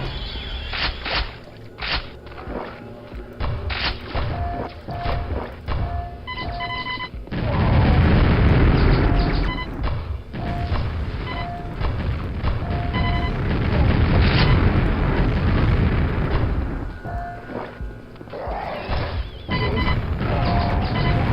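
Repeated booming explosions from proximity launcher fire in the video game Quake, custom sewer map, loud bursts recurring over a dense rumbling din with layered game effects throughout.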